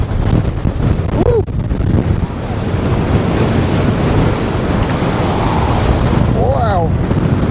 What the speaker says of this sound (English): But it's definitely windy.